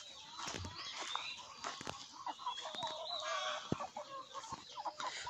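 Older hens cluck and chatter steadily in a farmyard where ducks and a rooster are also kept, with several birds calling close by in overlapping bursts.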